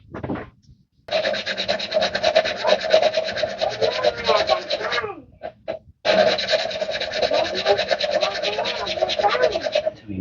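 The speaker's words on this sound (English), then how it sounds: "So we grind it, lift and turn it, grind it again. Lift and turn, just a quarter turn." An engine valve is ground into its seat with valve grinding compound, making gritty rubbing and scraping strokes in two long bursts separated by a short pause as the valve is lifted and turned.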